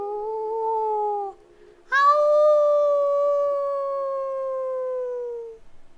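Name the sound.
person imitating a wolf howl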